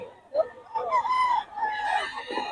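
A young gamefowl stag rooster crows nearby, one loud strained call with a rising and wavering tone, heard clearly outdoors with faint background noise.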